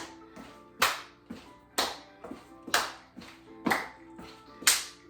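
Rhythmic hand claps paired with stomps during a cardio-walk aerobics routine, about two sharp claps per second in a steady beat over faint music, with no talk.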